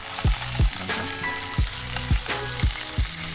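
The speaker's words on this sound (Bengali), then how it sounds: "মাশরুম এবং কর্ন একসাথে একটু ভাজি নিচ্ছেন।" Mushrooms and corn fry together in a pan for a tomato-with-vegetables dish, making a steady sizzle broken by several sharp knocks of a spatula against the pan at a fairly regular pace, with nobody talking.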